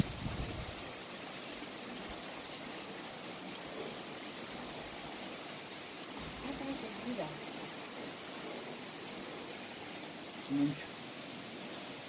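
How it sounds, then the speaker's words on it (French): Soft, steady hiss of rain falling in the woods on a hike near Quebec, faint and even throughout, with a brief louder bump near the end. "Et malheureusement, on a eu la pluie."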